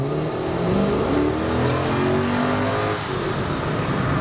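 Old bakkie pickup truck on a first test drive, its mid-pitched engine droning steadily from inside the cab with gentle rises and falls in pitch as it accelerates, continuous and fairly loud.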